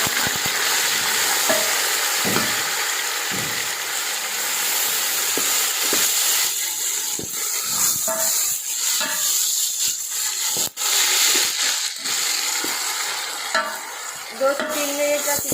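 Tomatoes fry in a hot pan with a steady, loud sizzle and hiss while a spoon stirs them, scraping and clinking at close range.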